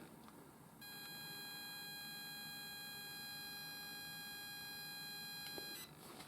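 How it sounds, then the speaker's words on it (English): ZX Spectrum tape loading signal for Hungry Horace played back from an iPhone tape app: a steady, continuous high-pitched electronic screech with several sustained tones, holding evenly for most of the clip over faint background noise. "You can hear that stupid screeching noise as if it was on a cassette"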